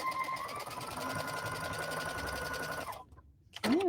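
Sewing machine stitching a Halloween border on fabric, a steady fast whir of needle strokes for about three seconds, then stopping abruptly, followed by a short rising mechanical sound at the end.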